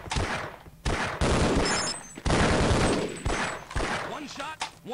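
Sustained automatic gunfire in Half-Life: Opposing Force comes in long, loud bursts separated by brief pauses, close and harsh, with a voice speaking briefly between volleys.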